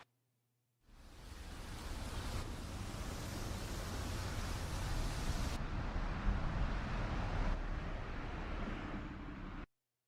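Rain sound effect, a steady broadband hiss that switches on abruptly, holds at an even level for about nine seconds and then cuts off sharply.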